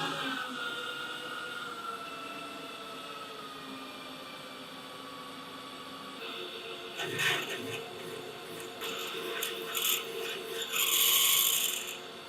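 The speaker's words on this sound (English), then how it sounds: "Lower the spindle speed and feed the drill bit in slowly." A drill bit fed slowly into metal on a lathe at lowered spindle speed, a steady machine hum followed by rasping, grinding bursts of cutting that grow louder toward the end.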